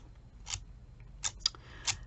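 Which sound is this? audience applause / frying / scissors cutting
scissors cutting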